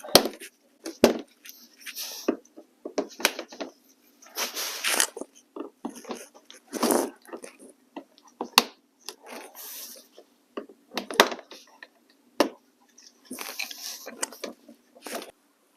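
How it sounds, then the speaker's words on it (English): Plastic retaining clips pop and click out of a 2022–2023 Honda Civic bumper, a series of sharp, irregular snaps and scraping rubs close by, with brief pauses between. "Pop these last two clips out."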